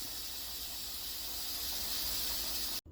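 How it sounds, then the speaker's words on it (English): Steam rushing out of a pressure cooker after cooking beans, a continuous broad hiss, fairly faint but steady, that cuts off abruptly near the end. "let all the steam go out"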